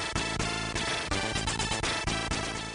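Music from an 80s computer's SID chip plays its three voices at once, with a melody, a bass line and a punchy rhythm track in a busy, steady, loud chiptune pattern.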